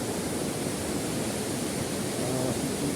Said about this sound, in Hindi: पीछे जो झरना है, तो ये जो झरना है